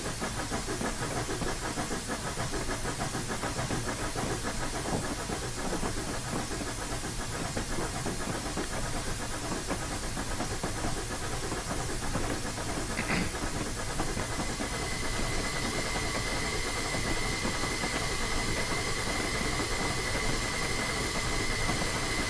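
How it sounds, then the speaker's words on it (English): Steam locomotive in Train Simulator 2016 building pressure on a snowy Clear Creek run, a steady loud hiss and rumble filling the whole stretch, with a brief sharper tone midway and a thin whistle-like line later. "Let's get a head of steam going, and then we'll build up to PSI here."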